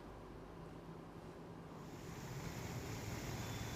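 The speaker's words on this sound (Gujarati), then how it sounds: "ભાટિયા ગામની બજારોમાં નદીઓ વહેતી થઈ હોય તેવા દ્રશ્યો સામે આવ્યા" Floodwater rushes through the market streets of Bhatiya village near Dwarka after heavy monsoon rain, a steady broad roar with gusty wind-like noise that swells slightly toward the end. No voices are heard.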